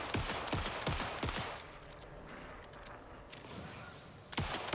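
Gunfire aimed at a ghostly woman in the video game Alan Wake 2, a string of sharp shots in quick bursts at the start, a quieter stretch in the middle, then more shots near the end.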